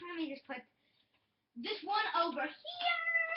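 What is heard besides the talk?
cat meowing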